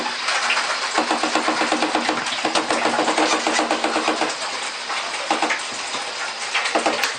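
Washing machine spinning a pillowcase of wet coconut coir, with a rhythmic sloshing, thumping churn and water draining, the beat wavering as the load struggles to balance.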